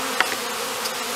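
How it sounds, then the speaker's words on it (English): Honey bees, about half a cup or roughly 300 of them, buzz inside a mason jar in a steady, close hum with a few brief louder flutters. "half a cup of bees, which is about 300 individual bees"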